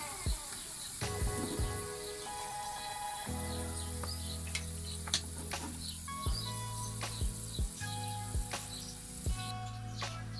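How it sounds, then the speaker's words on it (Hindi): Onions frying in hot ghee for a spicy green chilli chicken dish: a soft, continuous sizzle with scattered sharp clicks and scraping stir strokes, under a steady tonal hum that stops and restarts. "अब हम इसमें प्याज ऐड करेंगे। 1 से 2 मिनट के लिए आपने इसे फ्राई करना है।"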